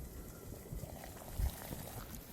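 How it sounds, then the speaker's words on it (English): Creek water comes to a boil over a camp stove on a truck-camping trip in the Appalachians, a soft steady bubbling and faint hiss close by with one small thump, no talk. "Bring some more water to a boil, just to disinfect the creek water."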